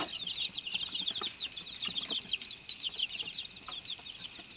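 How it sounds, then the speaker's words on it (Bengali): Deshi chickens on a Bangladeshi poultry farm, a flock of young birds raised for meat, give steady dense clucking and chirping close by, a continuous busy chorus with no talk over it. "মুরগিগুলো আলহামদুলিল্লাহ সুস্থ আছে"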